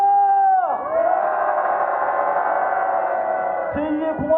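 A crowd at a candlelight rally in Gwangju, protesting the National Intelligence Service, lets out a long, loud, sustained collective shout and cheer that holds steady for several seconds, echoing around the open space.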